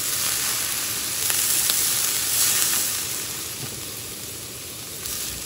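Lemon juice hits a pan of garlic butter shrimp, bringing up a bright, loud sizzle and hiss. It rises and falls over a few seconds, with light stirring clicks and no voices.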